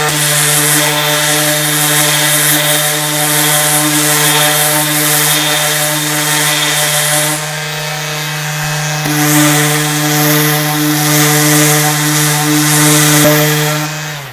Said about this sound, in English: So now that all the edges are sanded nice and smooth